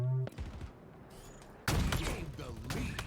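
Video game gunfire while sniping an opponent, a sharp burst of shots followed by a loud, dense volley of rapid fire and impacts, close and loud, with a voice heard briefly at the start.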